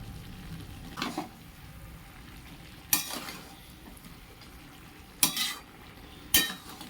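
Prawn curry being stirred in a pan with a little garam masala mixed in, soft low sizzling throughout broken by a few sharp scraping stirs of the spoon, no voices.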